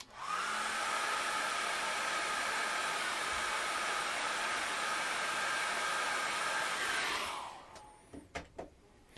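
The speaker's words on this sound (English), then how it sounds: "dry it off with a hairdryer like this" A hairdryer blows steadily and loudly for about seven seconds to dry acrylic paint, a broad airy whoosh with a motor whine, then switches off, followed by a few faint handling clicks.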